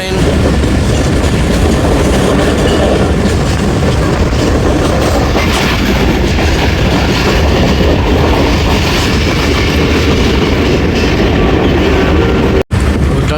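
The 13 Up Awam Express train runs steadily on approach to Gujranwala, heard loud and close from on board with a continuous rumble and rhythmic wheel clatter and no talking, ending in a brief dropout near the end.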